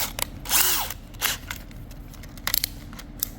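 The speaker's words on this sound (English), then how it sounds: "Put it in my drill." A power drill spins a ground-down flathead bit wrapped in emery cloth for cleaning a Honda GX160/GX200 carburetor, giving short bursts of whirring and scraping with gaps between, close and moderately loud.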